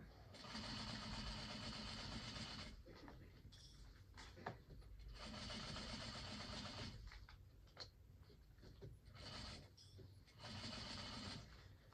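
A home sewing machine, an 8700 model, stitching binding onto a quilt, its motor whirring in steady bursts with short pauses between runs, close and fairly loud.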